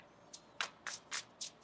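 Tarot cards shuffled in quick riffling bursts, five crisp flutters spaced roughly a quarter second apart, close and fairly quiet with no talking.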